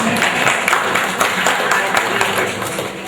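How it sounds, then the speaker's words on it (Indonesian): A crowd at a monthly Islamic study gathering claps for the performer Alin: loud, busy applause with many overlapping hand claps, fairly close, with voices mixed in. "Tepuk tangan buat Alin."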